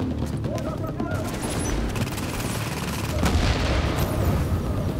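Dense gunfire and a heavy boom of a bomb exploding in the co-op shooter video game The Division, loud and chaotic throughout with a voice talking over the battle.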